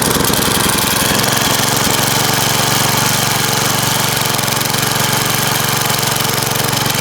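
A McLane blade edger's small gas engine starts and runs, its loud, rough, rapid putter filling the whole stretch without a break and with no speech over it.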